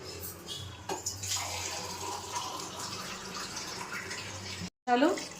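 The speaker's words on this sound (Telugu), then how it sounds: "దాంట్లో ఒక 2 గ్లాసుల వాటర్ పోసుకుందాం" Water is poured from a glass into a pot of Telangana-style crab curry, making a steady, close splashing pour for several seconds before cutting off, with a voice talking over it.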